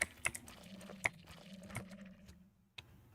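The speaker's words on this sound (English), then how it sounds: "I really enjoy the sound of the keyboard." Typing on a computer keyboard, quiet scattered key clicks in an uneven rhythm with a few sharper taps, faint and close, with a pause near the end before one last click.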